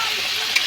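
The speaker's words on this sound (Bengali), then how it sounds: "এদিকে মাছ ভাজা হচ্ছে" Fish frying in a hot pan gives a steady sizzle through the whole short moment, with one brief louder crackle near the end and no talking.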